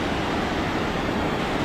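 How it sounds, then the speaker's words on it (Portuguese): Steady, loud rushing roar of a waterfall spilling over a former hydroelectric dam, a continuous broadband wash of falling water with no pauses and no voices. "Mas deu uma cachoeira bonita também."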